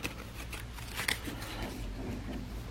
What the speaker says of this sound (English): we pull out the event cards, give them a bit of a shuffle